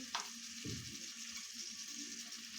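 Tomatoes hit hot oil in a pan while cooking masala rice, a soft steady sizzle with a brief splash at the start and a gentle stirring scrape, faint and close with no talk.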